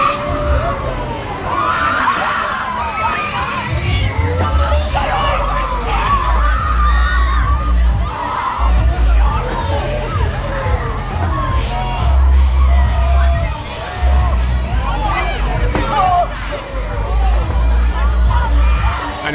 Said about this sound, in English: Let's see how many people start crying or screaming too much.